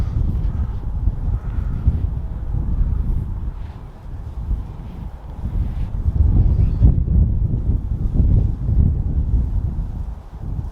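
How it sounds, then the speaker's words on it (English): Wind gusts buffet the microphone at an outdoor rifle shooting range, a loud low rumbling roar that swells and eases over several seconds with no shots heard. "Trying to get an idea what this wind's doing."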